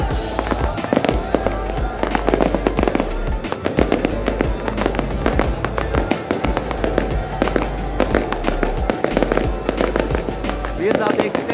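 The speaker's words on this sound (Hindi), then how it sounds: "12 बज गए हैं फायर वर्क स्टार्ट हो गया है" Dense, continuous popping and crackling of New Year fireworks at midnight in Islamabad, with rapid bursts of bangs, some near and some farther off, over a low rumble and background voices.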